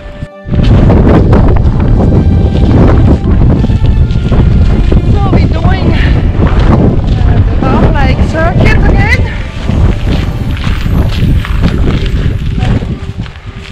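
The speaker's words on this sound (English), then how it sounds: "A bit windier today, but it's okay." Gusty wind at Dove Lake beneath Cradle Mountain in Tasmania roars steadily into the microphone for the whole stretch, a loud, rough rumble with a few faint higher sounds in the background.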